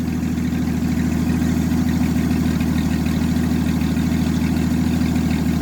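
A 1964 Chevelle V8 idles steadily and loudly up close, its deep, even rumble continuing without a break and no voices over it.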